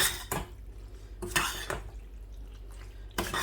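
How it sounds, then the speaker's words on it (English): Onion and garlic being stirred in a pan, with a few sharp scraping and clinking strikes of a utensil against the pan spaced over a quiet background. "Some onion. Some garlic. And we're just going to give it a good stir."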